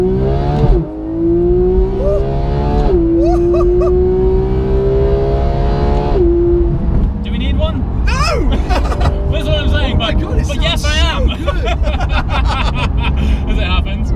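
Porsche GT3 accelerating hard on a straight road, heard from inside as the engine note climbs through the gears with sharp upshift breaks, loud and close, with people talking and exclaiming over it.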